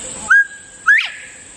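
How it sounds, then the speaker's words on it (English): A wild northern bobwhite quail calls near a campground, two clear rising whistled notes a half-second apart, the second swooping upward, sharp and fairly close over a faint background hum. "There's a local bobwhite too we've been hearing."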